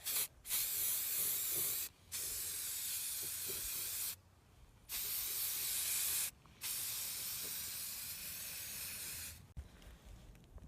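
Black primer hissing from a spray can onto a light fixture in steady multi-second bursts, each separated by brief silent gaps, close and loud.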